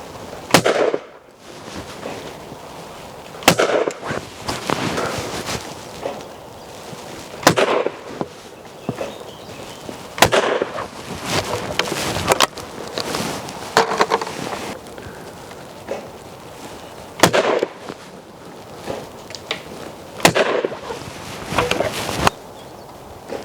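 Shotgun shots from a Baikal firing Fiocchi TT21 21-gram cartridges at a clay shooting stand outdoors, about nine sharp loud blasts spaced several seconds apart, each with a short echo, over wind noise.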